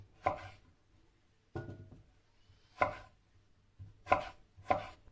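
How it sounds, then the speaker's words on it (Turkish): Five separate knife chops through potatoes on a cutting board, close by, each a crisp thud with a short ringing tail, spaced unevenly. "Patateslerimizi doğrayalım."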